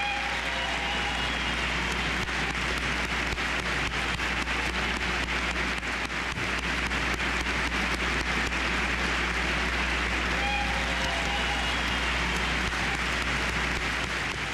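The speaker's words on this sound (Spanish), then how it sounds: "Alan Gross fue recibido con ovación de pie." A standing ovation welcoming Alan Gross home: dense, steady applause that fills the whole stretch at an even level, with no voices rising above it.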